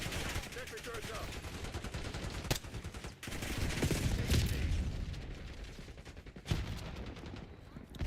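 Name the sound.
gunfire from sentry turrets in the video game Call of Duty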